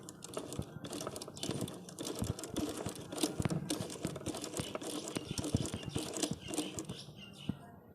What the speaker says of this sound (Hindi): ये मैं सिलाई लगा रहा हूँ।